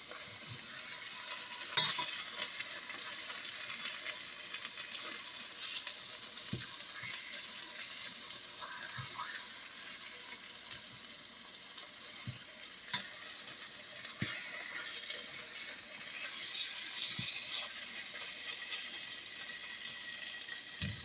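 Chuck roast pieces sear and brown in a pan on a double ring, giving a low, continuous sizzle with scattered sharp pops, scrapes and clinks throughout and no one speaking.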